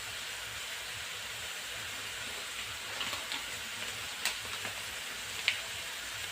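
Chili, coriander and cumin powders frying in a pan for a potato and okra dish, a soft steady sizzle with faint scattered crackles, quiet and without talk.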